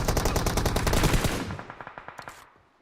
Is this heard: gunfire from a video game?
yes